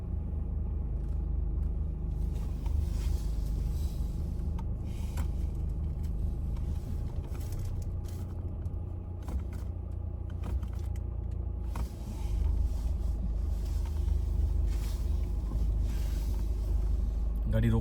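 A car drives along a forest road in Uttarakhand near a helipad camping spot, its engine a steady low rumble with road noise and bumps throughout, people talking over it.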